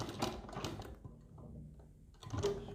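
A sewing machine stitches a neck design on a kurti in short, quiet mechanical bursts with faint clicking between them, close by and without voices.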